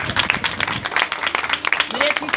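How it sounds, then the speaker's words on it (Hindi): Congregation at a Christian worship service applauding loudly, a dense sustained wash of clapping over the whole stretch, with voices and shouts mixed in throughout. "जोरदार तालियां बजाएं उसको।"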